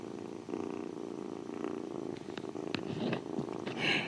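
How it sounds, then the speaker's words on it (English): A cat purring close up, a steady low rumbling rhythm with a few small rustles and clicks near the end. "We might hear him purring, just hold on."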